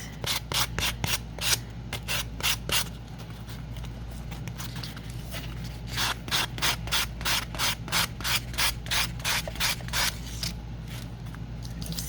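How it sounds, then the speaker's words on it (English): Steady rhythmic scraping of sandpaper rubbed back and forth by hand on wood, close and continuous with brief pauses. "do a little sanding on this."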